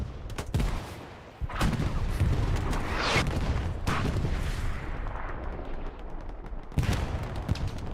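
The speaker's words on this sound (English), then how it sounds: "It was a rocket. Crazy long-range rocket from JPL." In the shooter game Hell Let Loose, a long-range rocket explodes with sharp booming blasts and heavy rumbling gunfire, and a second loud burst comes near the end over continuous battlefield noise.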